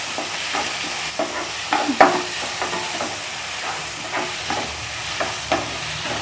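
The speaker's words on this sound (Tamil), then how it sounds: "தக்காளி நல்லா வதங்கி வந்துருச்சுங்க." Tomatoes sautéing in a pan for idli upma, a steady close frying sizzle broken by repeated scraping clinks of a spoon stirring, with no voices.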